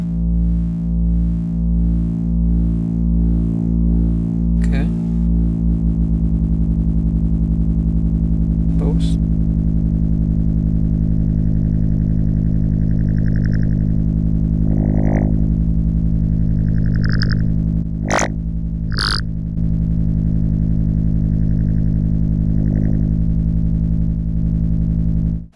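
A Serge frequency shifter fed back through a mixer, with up shift applied, produces a dense sustained electronic drone with warbling tones, occasional sharp bursts and shifting metallic sweeps, loud and continuous.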